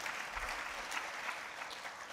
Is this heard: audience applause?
yes